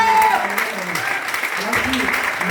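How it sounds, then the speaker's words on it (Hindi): An audience at a Vestige business seminar claps together for a speaker, steady and fairly loud throughout, with a voice over the clapping. "जोरदार तालियां कर दो"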